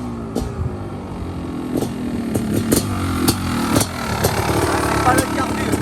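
A Honda CR500 HRC motocross bike engine runs steadily at a sand race, its rough mid-range drone continuing throughout with a few sharper revving bursts, while people talk over it.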